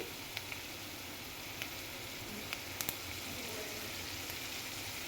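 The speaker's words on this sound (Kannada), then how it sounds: "ಇದಕ್ಕೆ ಒಂದು ಸ್ವಲ್ಪ ಶೇಂಗಾ ಬೀಜನ ಹಾಕ್ಕೊಳ್ಳಿ ಹಾಕಿ ಸ್ವಲ್ಪ ಗರಿ ಗರಿ ಆಗೋವರೆಗೂ ಸ್ವಲ್ಪ ಫ್ರೈ ಆಗಲಿ" Peanuts fry in hot oil until crisp for chitranna, giving a steady close sizzle with scattered small pops and crackles throughout.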